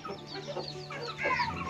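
An injured, recovering Aseel rooster clucks close by in a few short, throaty bursts, ending with a louder, higher squawk.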